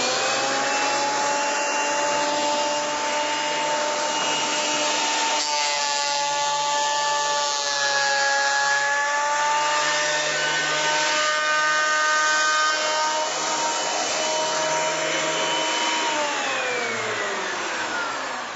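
A Delta planer cutting a wooden board, a loud, steady high-pitched whine with a droning motor hum that holds throughout and shifts pitch slightly as the cut loads and then eases, with no talk.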